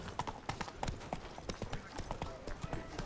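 Hooves of Roach, a horse in the video game The Witcher 3: Blood and Wine, clip-clop in a steady galloping rhythm, close and clear, with a voice speaking briefly over the hoofbeats.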